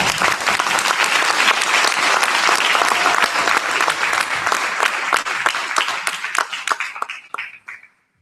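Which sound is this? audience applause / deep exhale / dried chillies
audience applause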